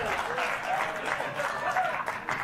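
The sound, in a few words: audience applause in played clip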